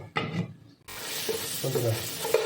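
A pan of pabda fish curry in oil is stirred with a few scraping touches, followed by a steady, close sizzle with light clinks and scrapes.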